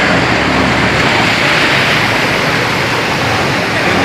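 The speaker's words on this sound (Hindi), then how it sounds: "बहुत तेज़ बारिश आई है।" Torrential stormy rain pours onto a flooded street in Multan, where a rickshaw has stalled in the water, a loud, dense, unbroken roaring hiss heard up close with no voices.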